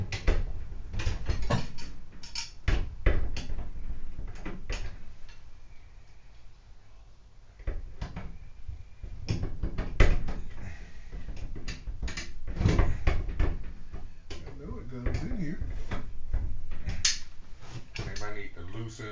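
Locking mechanism piece being fitted into the rack rail of a backpack blower rack in an enclosed trailer, with close metallic clicks, clunks and rattles throughout while a person talks.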